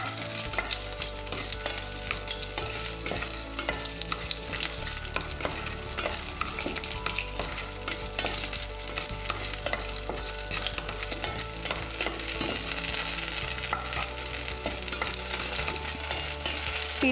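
Green chillies and onion sauté in a hot pan for a coriander chutney, a steady dense sizzle with frequent stirring scrapes running throughout at close range, no voices.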